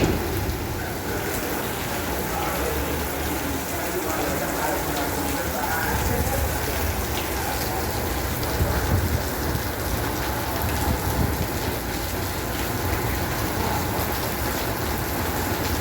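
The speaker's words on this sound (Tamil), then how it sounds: "மலேசியாவில் கனமழை." Heavy rain pouring down in Malaysia, a dense, steady hiss of drops on surfaces with a faint low rumble, constant and enveloping throughout with no break.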